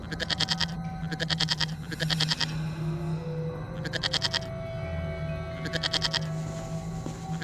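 A herd of cartoon goats bleats in quick repeated bursts, several bleats clustered together, with short pauses between groups over a steady background tone.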